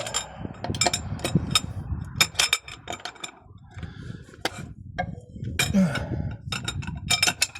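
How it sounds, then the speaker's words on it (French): A metal tube slid over a cross wrench and levered to loosen the bolts on a car's damper pulley, giving scattered metallic clinks, taps and ratchety knocks at an irregular pace, with a person talking in between. "Je mets le tube dans la croix et je force pour desserrer les boulons."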